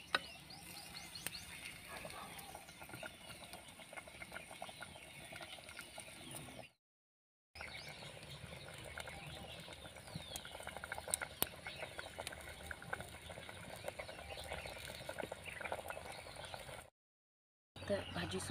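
Papad bhaji simmers in a pan with hot water, giving a soft, steady crackling and bubbling patter at low volume, broken by two brief silent gaps.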